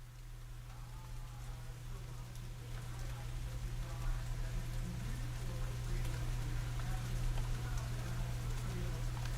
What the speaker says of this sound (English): Can you hear the rain behind me now? The little pitter patter of raindrops on leaves.